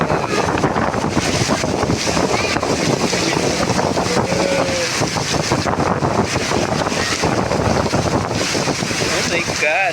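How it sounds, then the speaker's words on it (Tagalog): Strong typhoon wind roars continuously during a flood, buffeting the microphone with loud broadband gusts, with faint speech underneath. "lumilipad ang hangin"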